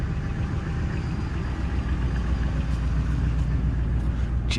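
A car engine idles through a makeshift exhaust patched with a dog food can, with a deep, steady low rumble, continuous and close, with a faint higher hiss over it.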